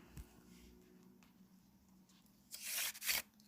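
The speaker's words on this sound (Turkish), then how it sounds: "O yüzden açalım bir deftere." A paper notebook opening for a look through drawings, giving a short papery rustle and flap of pages near the end, close and fairly soft against a quiet room.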